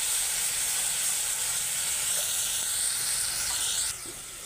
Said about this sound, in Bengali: এই যে সম্পূর্ণ জলটা আমি দিয়ে দিলাম